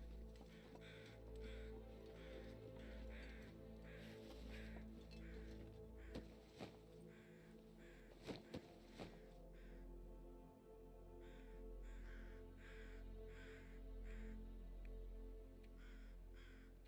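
Crows caw repeatedly in a video game set in a cold northern wilderness, the calls pulsing in steady bursts over a constant low ambient hum, with a few sharper knocks partway through.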